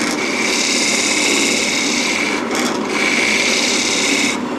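A tool scraping a wooden bowl made from compound staves as it spins on a lathe, a loud steady hiss with a high whine, briefly easing off midway before resuming.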